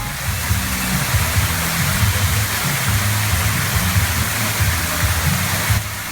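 A waterfall at a pool bar in Margaritaville, a steady loud rushing wash of falling water with low splashing rumble underneath, continuous throughout.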